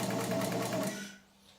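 A vintage Singer 31-15 industrial sewing machine from 1900 stitches through four layers of marine vinyl with a close, steady, rapid mechanical chatter that cuts off after about a second, leaving a faint hum.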